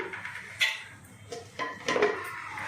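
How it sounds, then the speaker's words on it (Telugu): A spoon stirs ginger, garlic, coconut and onion paste into a fish curry in a pot, making a few close, scattered scrapes and light metallic clinks in a quiet kitchen. "ఇప్పుడు ఆ పేస్ట్ అయితే దీన్ని కలుపుతున్నాను"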